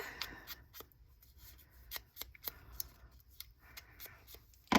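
Scissors trimming paper pieces for a craft house: a series of quiet, crisp snips and rustles at an uneven pace, close and faint in a quiet room.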